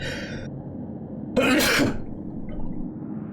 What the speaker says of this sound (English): Incoming sneeze.